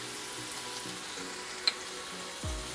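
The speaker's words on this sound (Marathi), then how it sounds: "आणि थोडंसं टमाटर सॉफ्ट होतोवर आपण ह्याला परतून घेऊया" Chopped tomato sautéing in a pan for a Maharashtrian batata rassa bhaji: a faint, steady sizzle with a brief utensil tick midway and a stirring scrape near the end.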